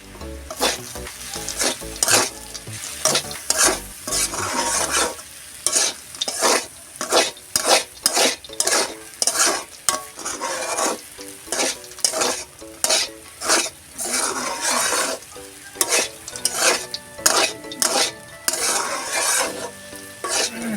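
Food frying in ghee with spice powder in a pan, a loud sizzle under repeated rhythmic stirring scrapes and clinks of the spoon that continue throughout.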